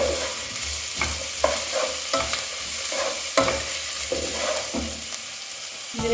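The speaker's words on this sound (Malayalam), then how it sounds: "സവാള നന്നായി വഴന്നു വരും." Onions sauté in a pan for a homestyle chicken dish, a steady sizzle broken by repeated scraping strokes of a spoon stirring at an even rhythm, close and without talk.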